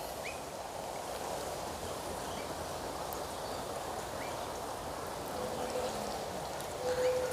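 Light winter rain falling outside a house, a soft steady patter and hiss throughout, with a faint bird call near the end.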